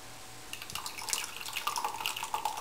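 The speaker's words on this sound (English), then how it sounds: "you pour it over the back side of the Guinness pouring spoon" Guinness beer poured slowly over the back of a Guinness pouring spoon to layer a black and tan, giving a soft, close, continuous liquid trickle with faint splashes and no talk.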